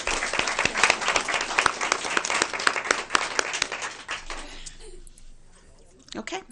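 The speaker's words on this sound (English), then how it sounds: "One more round of applause, please." Audience applause at a school board meeting, dense clapping close and steady for about four seconds before fading out, followed by a brief quiet gap and a short burst of noise at the end.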